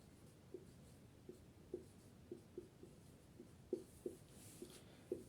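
Chalk or marker tapping and stroking on a classroom board during a physics lecture, a series of faint, irregular short knocks spaced about every half second, with no talk over them.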